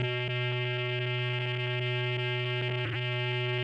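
A single sustained synth note runs through a Generation Loss MkII lo-fi tape pedal with saturation down and filter open, droning steadily with a brief wobbling tape snag dropout near the end.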